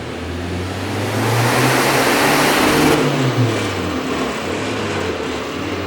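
A loud modified diesel Seat Ibiza TDI engine with a large intercooler revs steadily, rising and holding with a throaty rumble, then easing slightly toward the end.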